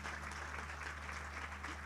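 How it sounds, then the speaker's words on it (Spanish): Audience applause for the director Martín Pérez at a presentation of the book "Brown, una historia compartida", a steady, fairly soft wash of clapping that holds evenly through the whole moment, with a low hum underneath. "y un aplauso porque ha sido un brillante trabajo"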